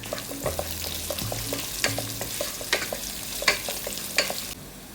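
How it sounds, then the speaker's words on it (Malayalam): Sliced onions and coconut pieces sautéing in a pan for a Chinese potato stir-fry, with a steady sizzle and repeated clinks and scrapes of a spoon stirring, close and clear with no talk, ending abruptly. "ഈ സമയം നമുക്ക് ഈ അരിഞ്ഞ് വെച്ചിരിക്കുന്ന സവാള അങ്ങോട്ട് ഇട്ട് കൊടുക്കാം."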